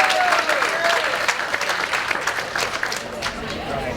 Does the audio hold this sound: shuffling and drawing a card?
no